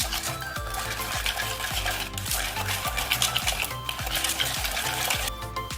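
Cake batter being beaten in a bowl, a steady rhythmic run of scraping, clinking strokes roughly every half second, close and fairly loud with no talking.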